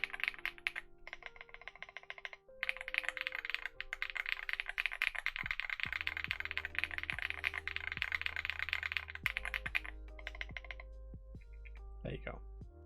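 Typing on a small pink and white Voice Mini mechanical keyboard fitted with GMK Fuji keycaps, a dense run of close, crisp keystrokes with brief pauses, and a voice talks over part of it.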